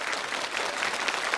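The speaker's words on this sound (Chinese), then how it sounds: "掌声有请3位都来" A studio audience claps in a brief burst of applause on a Chinese television challenge show, a dense, even patter of many hands with no voices.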